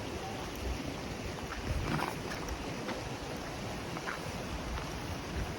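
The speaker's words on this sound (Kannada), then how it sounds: "ನೀರು ಫುಲ್ ತೆಳಗೆ ಬೀಳತೈತಿ ದೊಡ್ಡ ಕಲ್ಲ ಕಲ್ಲ ಒಳಗೆ ಆ ಕಡೆ ಈ ಕಡೆ ಫುಲ್ ನೀರು ಹರ್ಕೊಂಡು ಹೊಂಟೈತಿ" Overflow from the full Neersagar Dam reservoir tumbles and flows over big rocks, making a steady, even rushing roar of water that goes on without a break.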